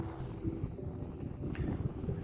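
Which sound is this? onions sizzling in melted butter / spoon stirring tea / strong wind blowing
strong wind blowing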